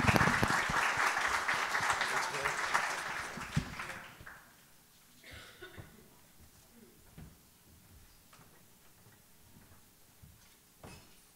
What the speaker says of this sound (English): let's give a warm round of applause to Django